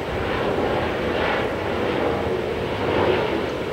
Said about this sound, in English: we have an aeroplane flying above us now